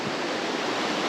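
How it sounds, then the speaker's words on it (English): Steady broadband rush of ocean waves crashing against the side of a cruise ship's hull at sea, a continuous soft roar without distinct breaks, faint and alone. "you definitely hear all the waves crashing into the side"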